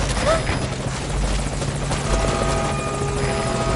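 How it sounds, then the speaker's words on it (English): An enemy helicopter in Metal Gear Solid V flies close by with a steady, loud rotor drone and engine hum that fills the whole stretch, with faint game effects layered underneath. "Focus all your fire on the enemy chopper."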